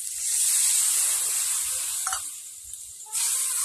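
Water poured onto white mustard paste in a pan of frying fish sets off a loud hiss and sizzle that fades, with brief stirring scrapes and a renewed burst of sizzle at the end.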